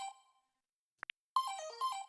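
A phone rings in the video game Another Code: Recollection with bright electronic ringtone tones, a melodic burst, a brief pause with two quick blips, then another sustained ringing phrase, clean and close.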